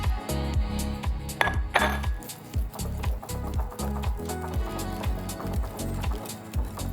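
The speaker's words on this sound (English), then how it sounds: "And we're gonna whisk this together." Wet ingredients with vanilla and two eggs are whisked in a bowl for pumpkin cheesecake muffins, a brisk, rhythmic clatter of whisk against the bowl repeating rapidly and steadily up close.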